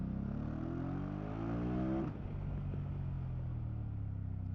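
A 2024 BMW F900 GS motorcycle engine accelerates in second gear in road mode, a loud, close, steady drone that climbs in pitch, then drops at a gear change or throttle lift and carries on lower.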